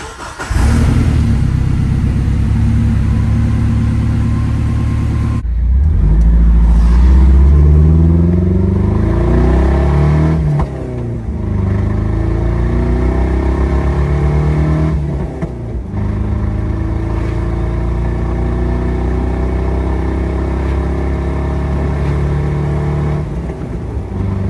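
A Jeep Wrangler, just repaired for death wobble, drives along the road, its mid-pitched engine droning loudly and steadily with revs rising and falling through gear changes and tire roar underneath.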